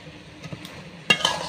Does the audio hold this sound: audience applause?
no